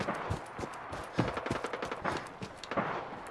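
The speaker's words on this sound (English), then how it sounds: "They sound like turrets." Automated turrets fire in the game Fallout 4, a rapid, moderately loud stream of gunshot-like bursts that rattles on steadily for several seconds.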